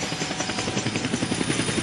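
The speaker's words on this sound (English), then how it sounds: "now we get to see good old helicopter Ed" Steady helicopter rotor drone from the video game Dead Rising, with a rapid chopping pulse, fairly loud and continuous, with no voices.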